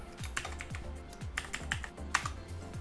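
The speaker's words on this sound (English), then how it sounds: "I just simply type hello and search through this." Rapid, close typing on a computer keyboard, with a steady run of light key clicks and no talk.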